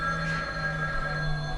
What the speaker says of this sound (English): don't answer the phone.